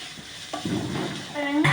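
Filling for paneer momos sautéing in a pan, giving a soft sizzle and scraping stir with a brief clink of utensils.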